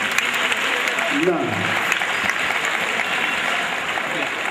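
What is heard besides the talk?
audience applause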